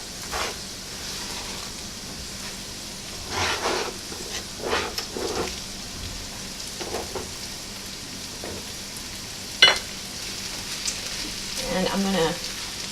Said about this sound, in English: we're going to take all that spinach we chopped, and we're going to add it to the pan